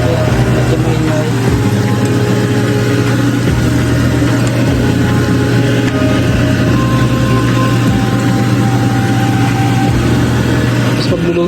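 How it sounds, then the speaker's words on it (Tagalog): A noisy kitchen exhaust fan runs loud and steady, a constant droning hum with a low rumble that never lets up, while someone talks over it now and then. "Pasensya na kasi maingay yung exhaust fan."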